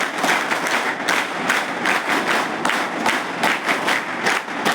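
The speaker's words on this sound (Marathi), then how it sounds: "माझं भाषण आवडलं असेल तर जोरानं टाळ्या वाजवायच्या" A hostel audience claps loudly and in unison, in steady rhythmic bursts that continue throughout without any talking.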